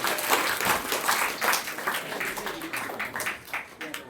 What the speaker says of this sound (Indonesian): kita beri tepuk tangan untuk Nicholas